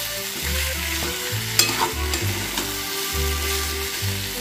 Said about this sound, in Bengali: এটা ভালোভাবে 6 থেকে 7 মিনিট মতো কষিয়ে নিতে হবে, যাতে কাঁচা টমেটোর গন্ধটা না থাকে